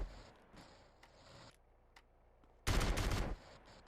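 A shotgun firing in GTA San Andreas, heard as a loud, dense burst of close blasts lasting under a second, following a stretch of quieter game ambience with faint clicks.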